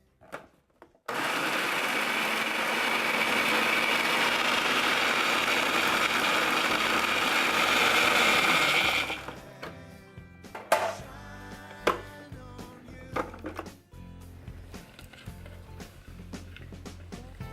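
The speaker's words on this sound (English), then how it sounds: "take 1 cup of dried Aronia berries and put them in the food processor, chop them till fine" A food processor chops dried Aronia berries, a loud, steady whirring motor held for about eight seconds, then stopping into scattered clatter and bumps of the bowl and lid.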